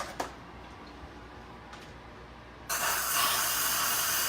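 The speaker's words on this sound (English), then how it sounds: "I forgot to release the steam." Steam hisses loudly as it is released from a pressure cooker pot of green beans, a sudden bright rush that starts partway through and continues steadily after quiet kitchen ticking.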